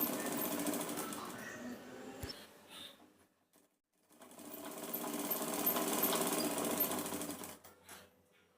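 A sewing machine stitches a folded lining hem on a Punjabi dress, running in a steady buzzing stretch, stopping briefly, then starting again for a longer run, close but fairly quiet.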